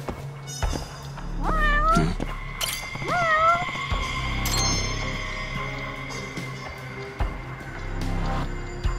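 A cat meows several times in distinct rising-and-falling calls over a steady background hum, fairly close and loud, with thumps and scraping noises in between.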